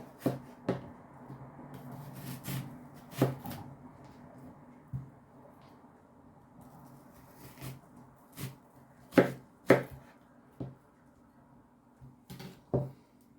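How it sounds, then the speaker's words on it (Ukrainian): Irregular knife chops against a board as an onion is sliced into rings, sharp close strikes scattered over the stretch, with a quiet room hum beneath and no talking. "Нарізала цибулю кільцями крупненько."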